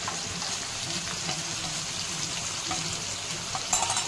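Ground turmeric, cumin and coriander powder frying together in a hot pan, a steady close sizzle with soft scraping and stirring, brief brighter crackles near the end, no talking.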